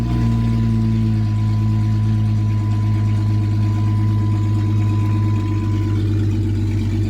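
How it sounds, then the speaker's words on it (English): A Jeep Grand Cherokee ZJ with no muffler runs loud and close, a steady, deep, rumbling idle throughout. "There's no muffler, by the way, which is why it's super loud"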